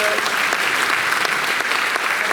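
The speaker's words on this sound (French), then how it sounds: "Il s'arrête pour les applaudissements" Loud, close applause fills the room for a speaker at a 2024 New Year's greetings event for businesses, a dense continuous patter of many hands with a faint murmur of voices underneath.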